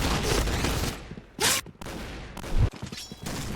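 Gunfire in the shooter game Point Blank: several bursts of rapid shots that are dense and close, with a sharp loud blast in the middle and quieter pauses between bursts, with no talking.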